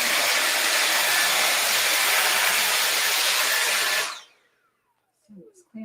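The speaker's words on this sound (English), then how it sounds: "I'm going to vacuum up the flour real quick." A vacuum cleaner runs loud and steady, a broad rushing whoosh, while sucking up spilled flour in a kitchen, then winds down and falls silent; a brief bump follows.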